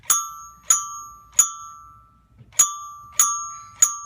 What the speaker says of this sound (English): Jingle bells? Ooh, jingle bells.